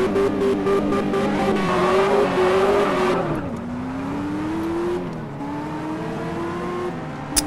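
A car in the mobile driving game Car Parking pulls away from a standstill, its engine note climbing through several gear changes, loud and close with no voices over it.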